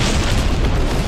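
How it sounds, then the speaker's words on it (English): Starship cannon fire aimed at enemy pirates in No Man's Sky, a loud, dense, continuous roar of booming blasts with no break. "Our cannon's back up."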